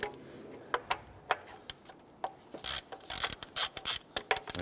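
Ratchet working on the 10 mm valve cover nuts of a 1992-1996 Toyota Camry, giving a few sharp separate clicks and then quicker bursts of clicking near the end, close up with no talk.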